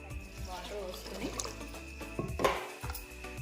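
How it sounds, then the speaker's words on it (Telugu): Water poured into a pressure cooker holding soaked kidney beans for rajma, a quiet, short splashing pour heard close under a voice and a steady background hum. "వాటర్ పోసుకొని"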